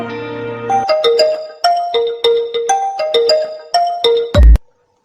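A phone ringtone plays a repeating melodic chime in a steady rhythm, loud and clear with no talk over it, stopping abruptly after about four seconds at an incoming call.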